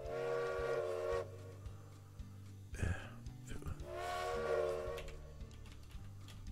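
A steam train whistle in the railway management game Railway Empire, two long harmonic blasts separated by a short gap, loud over low rumbling game music and machine noise.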